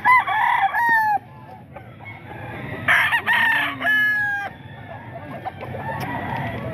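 Roosters at a chicken market crow loudly and close in repeated bursts, with clucking and other fowl calls between the crows and no talking.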